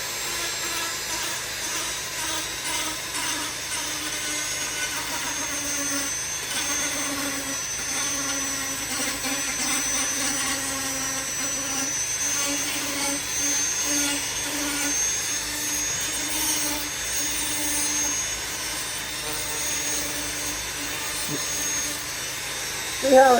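A Dremel or die grinder fitted with a Saburrtooth dovetail burr sands steadily, giving a continuous high-pitched motor whine with a faint rubbing grit underneath, close and even throughout.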